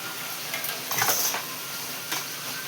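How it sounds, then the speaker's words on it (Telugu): Spices sizzle in hot oil with a steady crackle as a tempering for dal, while a utensil scrapes and stirs the pan a few times, close by. "పప్పు కూడా తాలింపు రెడీ చేసేసుకున్నాను"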